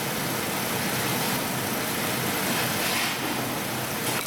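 A car engine idles steadily after its throttle body has been cleaned, a continuous close, even rumble with no talking.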